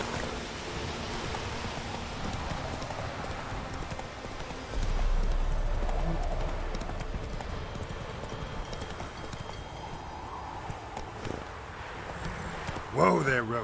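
Hooves of Roach, Geralt's horse in The Witcher 3, clop steadily at close range over a rainy backdrop, with speech and game ambience mixed in and a louder burst near the end.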